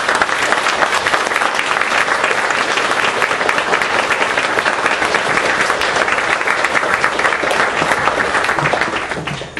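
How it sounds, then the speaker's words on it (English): A large audience gives sustained, loud, dense applause honoring military spouses, an even roar of clapping that holds for nearly ten seconds before easing at the end. "Let's give them a round of applause."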